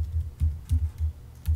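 Typing on a computer keyboard while writing an HTML link, about half a dozen soft, dull key taps in an uneven rhythm, close and alone.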